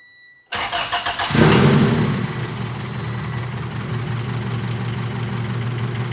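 A Honda/Acura engine fitted with a coil-on-plug conversion kit cranks and catches after a brief quiet start, revs up loudly, then settles into a steady, close idle.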